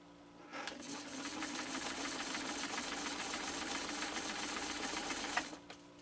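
A 1972 Kenmore 1318 sewing machine runs a straight stitch through two layers of elk hide, a steady, fast mechanical whirring hum with rapid needle clatter, close and continuous for about five seconds before stopping.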